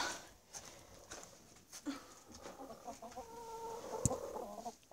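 Laying hens cluck softly in the distance over a rustling outdoor background, with a brief sharp knock near the end.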